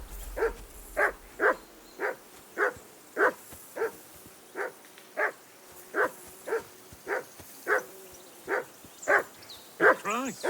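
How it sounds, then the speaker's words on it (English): A dog in Kingdom Come: Deliverance 2 barks in a steady, evenly spaced series of about sixteen sharp, loud barks that continue without a break for the whole stretch, with a quieter, rougher bark closing the run. "Henry! Call off that damn dog before he wolfs down the last of our mates."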